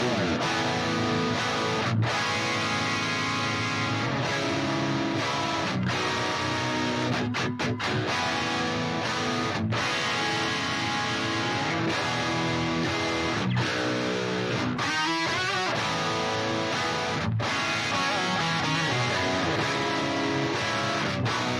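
Two electric guitars play different parts together in a full mix: a Jericho guitar through a Marshall amp and a Stratocaster with stock pickups through an amp sim, dense and continuous with no talking.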